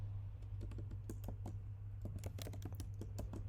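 Uneven bursts of close keystrokes as code is typed on a computer keyboard, over a steady low electrical hum, with no voices.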